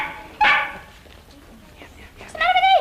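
A pet dog gives two sharp barks or yelps, one near the start and a longer, louder one at the end, in an indoor workroom with quiet background.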